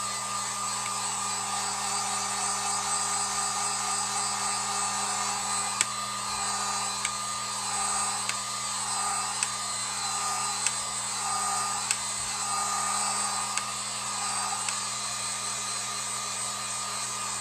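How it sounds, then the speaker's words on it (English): A Harbor Freight heat gun blows hot air to dry paint on a DIY pumpkin, giving a steady, close, whining fan drone that runs unbroken throughout with faint clicks and taps on top. "And I'm just going to dry it with my heat gun."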